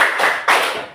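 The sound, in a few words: hands clapping in a clapping game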